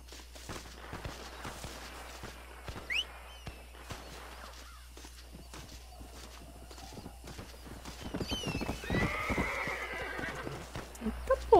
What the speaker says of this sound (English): até meu cavalo vem numa velocidade super acelerada, muito estranho.